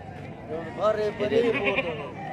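A goat on a goat farm bleats loudly and close by in a wavering cry lasting about a second, with someone speaking over it.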